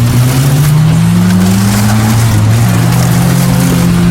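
Two cars launching side by side in a low-budget drag race, their engines droning loud and steady with rising revs throughout, no talking over them.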